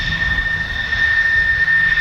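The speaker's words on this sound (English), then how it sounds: "here is the Connie and a nice photo pass" A Lockheed L-749 Constellation propeller airliner makes a low photo pass, its piston engines producing a loud, steady drone with a constant tonal hum, close and sustained, with no talking.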